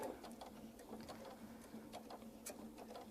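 A sewing machine stitches a quarter inch seam with a quiet, rapid ticking whir that runs continuously and faintly throughout, with no voices.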